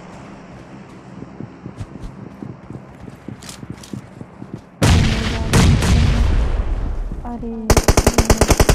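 Bursts of automatic gunfire from shooting players in PUBG Mobile, rapid rattling volleys that grow louder and denser toward the end, with a brief exclamation from a voice.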